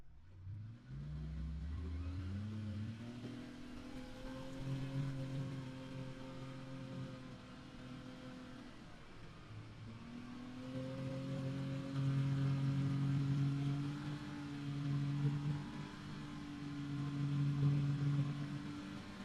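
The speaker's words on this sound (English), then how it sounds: "So we'll go back to high gear and go down the road." A CFMOTO U10 UTV engine drones while driving down a road in high gear, a steady mid-pitched hum that rises in pitch as it accelerates, eases off, then climbs again, heard from inside the cabin with no speech.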